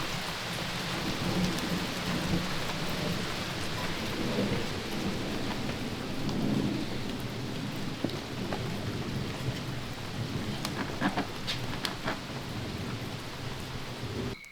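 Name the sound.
thunderstorm with rain and thunder at night in the woods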